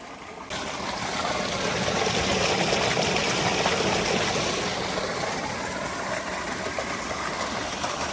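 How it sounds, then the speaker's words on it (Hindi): A village tubewell pump runs steadily with water gushing out, a loud, close, continuous engine drone mixed with rushing water that starts abruptly and holds for about eight seconds, with no talk. "ये ट्यूबवेल बिल्कुल हमारे घर के करीब है। ये सामने हमारा घर है और ये तो सारा दिन चलता रहता है।"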